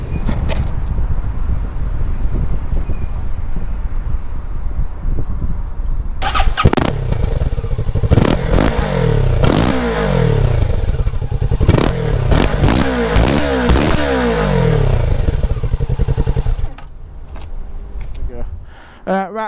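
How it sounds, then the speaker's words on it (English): A Kawasaki Z650 motorcycle starts and revs, its engine rising and falling through repeated throttle blips, loud and close before cutting off near the end. "I'm going to take the Kawasaki Z650 out for a test ride"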